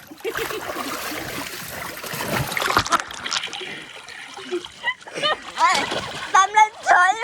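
Water splashes repeatedly in a full swimming pool, irregular bursts and trickles mixed with children's and adults' excited voices talking over it.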